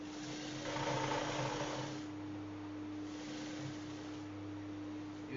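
A sewing machine stitches a trouser pocket, a steady close mechanical whir with a fast buzzing run in the first two seconds, then quieter intermittent bursts, without any talking.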